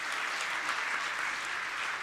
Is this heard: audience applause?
yes